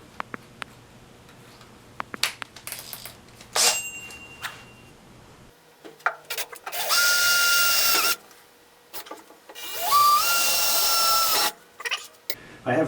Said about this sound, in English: I'm going to drill a pilot hole with a regular drill bit.